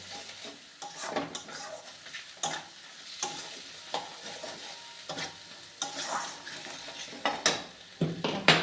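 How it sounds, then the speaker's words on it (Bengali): Spices fry in a very hot kadai, crackling and sizzling steadily while a utensil stirs and scrapes against the pan in irregular strokes. "কড়াইটা খুব গরম হয়ে গেছে, একটু বেশি ইয়ে হয়ে যাচ্ছে, পুড়ে পুড়ে যাবে মশলাটা"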